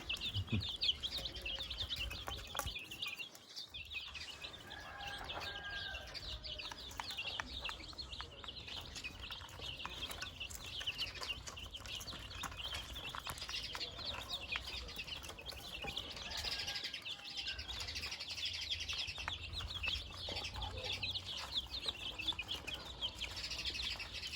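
Young Brahma chicks chirp continuously in a busy, high-pitched chorus of overlapping peeps, with occasional soft rustles and flutters and a brief dip in the middle.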